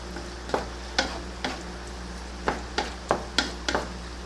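A spoon drags and scrapes through cheese and beef enchilada filling in a pan over low heat, about nine distinct strokes at an uneven pace, close and moderately loud, with no talking.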